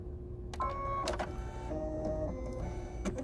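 An embroidery machine stitches a placement line for a snow design on a handmade card, with a whirring, stepping motor buzz and a few sharp mechanical clicks. The buzz shifts in pitch between short runs, and no one speaks.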